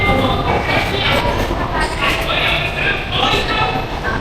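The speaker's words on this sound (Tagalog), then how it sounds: "Yung pagsakay ng tren at paglilipat ng tren." Rumbling train noise from the Osaka rail system fills the clip, with a steady rolling roar and clattering mixed with crowd murmur and people talking in the background.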